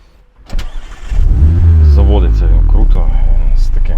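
A Mazda MX-5 roadster's engine cranks and catches, then settles into a loud, steady running rumble; a voice is briefly heard over it.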